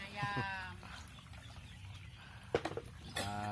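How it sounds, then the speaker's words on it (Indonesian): A chicken clucks in short bursts at the start and end, fairly close, in a village in Pemulutan, South Sumatra, with faint background noise and brief sounds between. "Ayam."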